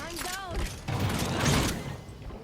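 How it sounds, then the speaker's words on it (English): A door shutting in a video game, heard as a mechanical grinding and clanking with heavy thuds over about two seconds, while people talk over it. "Oh, that door shut."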